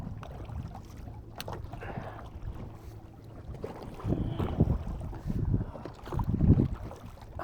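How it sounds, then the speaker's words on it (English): Wind gusts and lapping waves on a lake at Lanes Island on a windy day, a steady low rumble of wind buffeting the microphone with swelling surges of water and gusts, no talking. "The fact that it is this windy and there's still enough wave action."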